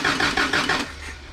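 A Toyota engine cranks over on the starter during a compression test, a rapid rhythmic chugging of about five pulses lasting under a second before it cuts off, loud and close.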